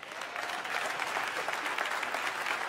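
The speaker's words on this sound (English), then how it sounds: "Y'all can give that a round of applause." An audience applauds at a political rally, a dense, even wash of clapping sustained through the whole stretch, moderately loud with no talk over it.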